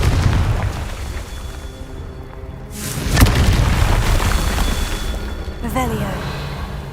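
In Hogwarts Legacy, the Confringo fire spell lands as a single heavy explosive boom midway through, over low game ambience and rumble. A short voice follows near the end.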